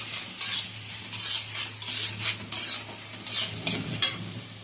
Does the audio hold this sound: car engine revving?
no